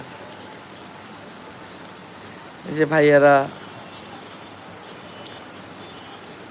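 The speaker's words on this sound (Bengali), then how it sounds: "আমার এলাকাতে দেখেন এই যে বৃষ্টি সুন্দরই লাগতেছে" Heavy rain pours down in a steady, loud hiss throughout, and someone briefly speaks over it in the middle.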